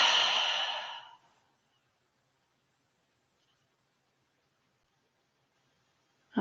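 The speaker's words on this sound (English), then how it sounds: "And then open mouth exhale." An open-mouth exhale during a yoga breathing practice, a loud breathy rush of air lasting about a second at the start, followed by near silence.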